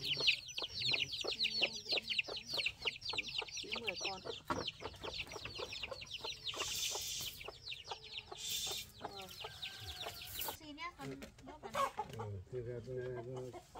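Chickens cluck and chirp repeatedly, close by, as they are put into a coop. Several people talk over the birds.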